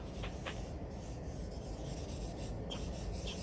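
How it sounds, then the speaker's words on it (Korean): A cotton pad rubbing over a charcoal drawing on rough paper gives a steady, soft rasping scrape, close and continuous, with a few faint brighter strokes. "화장솜으로 문지르면 이렇게 더 부드럽게 문질러져요"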